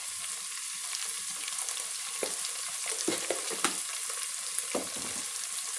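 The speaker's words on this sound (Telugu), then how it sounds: "దీన్ని బాగా వేయించుకోవాలి పచ్చి వాసన పోయే వరకు." Garlic paste fries in hot oil for a restaurant-style veg biryani, giving a soft steady sizzle with occasional scraping stir clicks from a spoon in the pan, close and fairly quiet.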